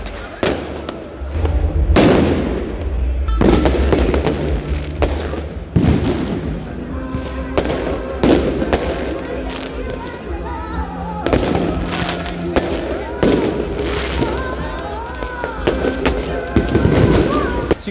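Fireworks burst repeatedly at irregular intervals at a New Year's Eve countdown in Tbilisi, Georgia, loud sharp bangs and booming thuds echoing over a murmuring crowd.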